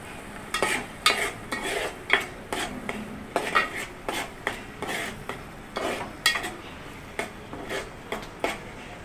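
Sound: roasting masala in oil in a pan for egg curry

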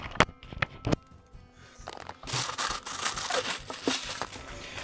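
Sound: plastic bag being torn open and crinkled during unboxing

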